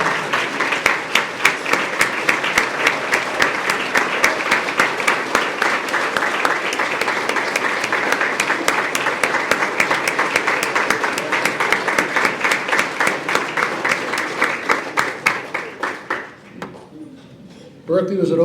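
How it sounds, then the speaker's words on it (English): An audience at a university athletics hall of fame induction ceremony applauds in a hall, sustained even clapping for about sixteen seconds that fades out near the end. "Please join me in a round of applause"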